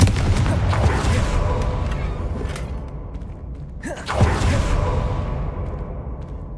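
A Confringo fire spell cast in Hogwarts Legacy bursts with a loud whooshing boom over a dense, busy game soundscape, followed by a sharp swish and a second burst, with no talking.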